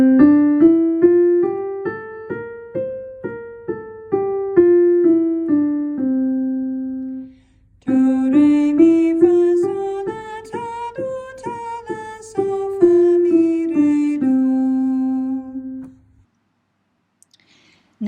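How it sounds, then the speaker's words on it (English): A pitched instrument plays a Mixolydian scale twice, single notes stepping up then back down in an even rhythm, each run ending on a held tone, close and clear, with a short pause between runs. "And the Mixolydian scale sounds like this."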